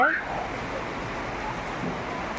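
Heavy rain falls outside in Chennai, a dense, steady hiss of broadband noise that continues without a break. A brief faint tone is heard at the very start.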